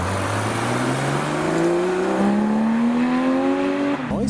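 A 700-horsepower Bentley engine revs hard and close, its pitch climbing steadily in one long sustained pull before cutting off abruptly near the end, with faint traffic noise underneath.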